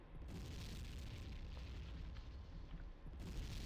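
Long-range mortar rounds bursting in the game Tribes 2, a continuous low rumbling barrage of booms with faint crackle, sustained and fairly distant throughout with no talk.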